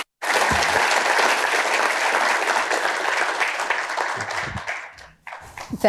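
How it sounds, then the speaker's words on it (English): Sustained, dense audience applause at an evening talk on designing the 9/11 Memorial competition, loud and steady for about five seconds before tapering off into a few scattered claps. "Let's give them all a warm round of applause."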